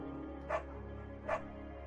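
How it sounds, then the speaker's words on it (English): Two short dog barks spaced about a second apart from Buck, a dog in the video game Firewatch, heard over a steady low game-ambience drone. "Buck is a good dog"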